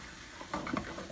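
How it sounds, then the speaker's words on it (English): A utensil scrapes browned bits off the bottom of a hot pan of cooking cauliflower. It makes a brief sizzling, scraping stir that rises partway through and stays fairly quiet. "scrape off the darkened bits on the bottom, which are going to add some wonderful flavor"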